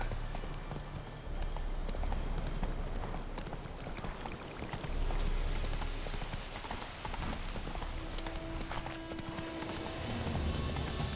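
Roach, a horse in The Witcher 3 video game, gallops with a steady clip-clop of hooves that runs throughout, loud and close, over a low rumbling game backdrop, with no talk.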